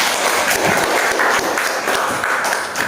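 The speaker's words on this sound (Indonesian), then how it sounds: "kita kasih applause dulu untuk kelompok 1" Classroom applause for a student group after a chemistry presentation, a steady dense patter of many hands clapping close by for the whole stretch, with no voices over it.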